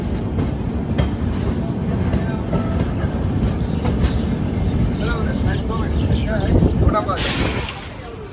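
A moving passenger train on an Indian railway, a Pune special, rumbles with steady clickety-clack wheel noise and a brief high squeal near the end, while people talk over it.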